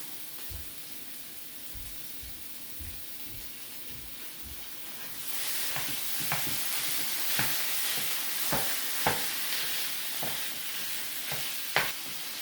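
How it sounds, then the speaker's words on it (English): Ground beef browning in a pan, a steady hiss of sizzling that grows louder partway through, punctuated by regular scraping clicks of a spatula stirring the meat. "I'm just gonna get some ground beef going in this pan"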